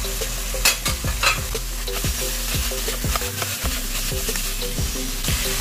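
Shrimp and pork sizzle and fry in a pan for pinakbet, with repeated close stirring scrapes and clatter over a steady sizzle.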